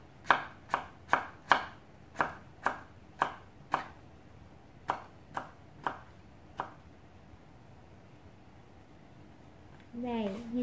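A knife chops papaya into fine strips for candied jam, about a dozen crisp, evenly spaced taps on a cutting board, close and clear. A voice starts speaking at the very end.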